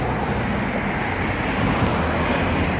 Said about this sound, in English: That right there, that water has been coming out all the time.